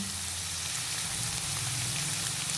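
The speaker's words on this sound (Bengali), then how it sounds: "এবার ভালো মতো ভেজে নেব দুটো একসাথে" Vegetables frying together in a pan for vegetarian fried rice, a dense continuous sizzle close up with a low rumbling hum underneath and no pauses.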